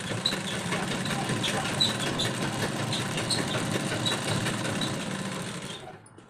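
A sewing machine runs steadily while stitching a kurti, a fast continuous mechanical whir with rapid needle ticks, close and even, then stopping near the end.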